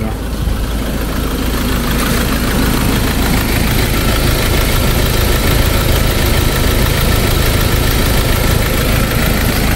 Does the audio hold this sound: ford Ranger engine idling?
yes